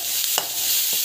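Onions and tomato frying with salt and asafoetida in a pan give off a steady hiss of sizzling, with two quick scrapes of a spoon stirring them.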